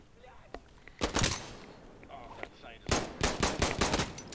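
Gunfire in the tactical shooter Insurgency: Sandstorm comes as two short bursts of rapid automatic shots with a gap between them, moderately loud, and voices speak briefly around them.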